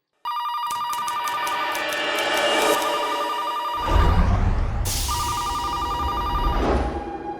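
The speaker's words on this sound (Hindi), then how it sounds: "फैक्ट्री में कोई फोन नहीं उठा रहा है।" A telephone rings over and over at a factory with a steady, insistent electronic bell, left unanswered, with a low rumbling hum joining in partway through.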